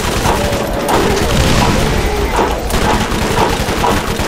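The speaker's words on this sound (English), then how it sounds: "I'm gonna throw a grenade!" A grenade blast and rapid gunfire fill a Borderlands video game firefight, the booming explosion and dense volleys of shots layered into a loud, continuous wall of battle noise.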